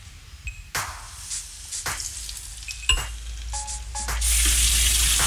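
Chicken tenders frying in hot oil, a steady crackling sizzle broken by a few sharp clinks of a utensil, swelling into a loud, dense hiss near the end, heard close up with no talking.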